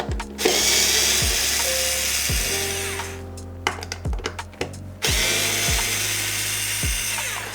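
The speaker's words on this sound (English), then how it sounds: "So let's get this one drilled out." A power drill backing screws out of a Packmate Pro drum hardware case, with repeated short whirring bursts that spin up and stop, separated by brief pauses and small clicks of handling, close and fairly quiet.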